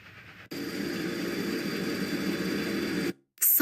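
Steady rumbling train ambience from the freight compartment at the rear of a train in the game Secret Files: Tunguska, a continuous even drone with rattling texture that cuts out briefly near the end.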